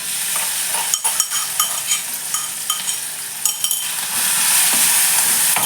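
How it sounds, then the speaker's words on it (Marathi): Peanuts and cumin sauté in a hot pan, a steady sizzle broken by repeated scraping stirs of the spoon, louder near the end, with no talking. "असं परतून घेते मी चांगलं तर शेंगदाणे आणि जिरं परतलं गेलेलं आहे"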